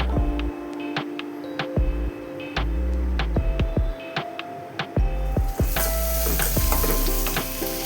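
Garlic, onion and curry leaves frying in oil for a potato fry, a steady close sizzle with scattered ticks and scrapes of stirring, the sizzle swelling louder near the end.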